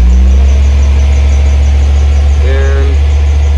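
Gas engine on an alternator welder rig with a cable-actuated throttle control, running at a steady, loud idle-to-mid drone, with a brief shift in pitch partway through as the throttle is worked.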